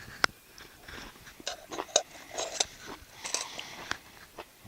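Crunchy cooked green beans being chewed close up, with a series of sharp bites and crunches in an irregular rhythm, alone and without talk.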